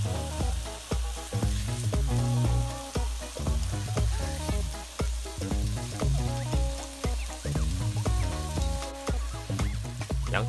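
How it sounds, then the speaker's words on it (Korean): Pork belly fries in a pan with a loud, continuous sizzle and crackling spatter, close up and steady throughout with no voices. "한쪽 면이 익으면 한번 뒤집어 줍니다."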